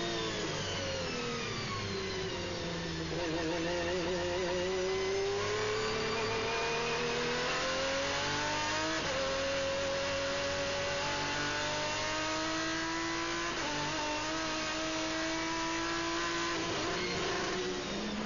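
A GT race car engine from onboard at Zolder in 2001 FIA GT Super Pole, droning steadily and close, its pitch rising and falling through gear changes as the throttle eases open, loud and continuous with no talk.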